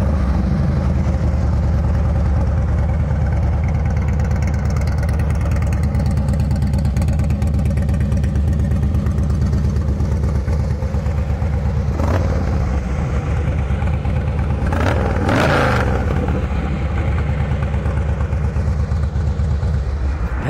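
A fuel-injected Harley-Davidson Night Train FXSTBI V-twin with aftermarket headers runs close by, a loud steady loping idle that swells in brief revs near the end, no talking.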